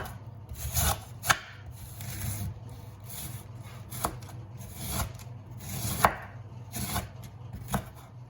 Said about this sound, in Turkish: İlk olarak lahanamızı ince ince kıyalım.